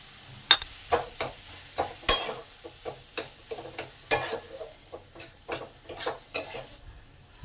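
Rui fish pieces and potatoes are stirred in a pan of cooked-down spices, a soft sizzle running underneath. Spatula or spoon scrapes and knocks land at irregular beats, some of them sharp clinks against the metal, and no one speaks.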